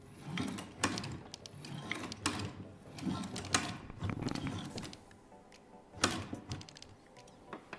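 A hand-crank sewing machine gives a string of mechanical clicking and whirring bursts, each a second or so long, with short gaps between them. It sounds close and moderately loud, with no voices.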